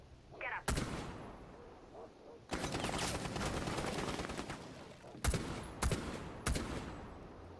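Rainbow Six Siege gunfire plays out: an early single shot, a sustained burst of rapid automatic fire, then three separate sharp shots, loud and close against a quiet background.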